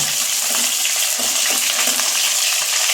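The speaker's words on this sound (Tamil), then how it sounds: "பூண்டு போட்டு நல்லா இப்படி கிளறி விட்டுக்கோங்க" Garlic fries in hot oil in a pan for a Tamil lentil-dumpling curry, giving a loud, steady, bright sizzle with soft stirring scrapes throughout and no talking.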